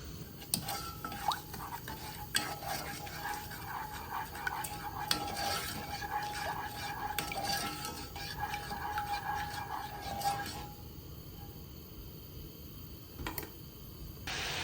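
A spoon stirs sugar and water in a pot as a small syrup heats toward a simmer, giving repeated light scraping and clinking strokes close by that fade to quiet near the end.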